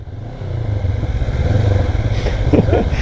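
A Honda CB500X motorcycle engine rumbles low and steady nearby, its throb swelling slightly as it runs, with faint clatter near the end.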